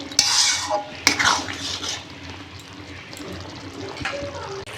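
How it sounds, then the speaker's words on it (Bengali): Masala with ginger paste being stir-fried for mutton kasha, a spoon scraping and clattering against a pot in a few sharp strokes over a low sizzle, with talk in the background. "আর দিচ্ছি আদা বাটা, ভালোভাবে মশলাটাকে এবার কষিয়ে নেব।"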